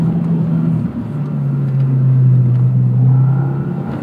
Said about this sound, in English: even giving it full throttle at 4K, a little bit of lag to really spool things up to get that surge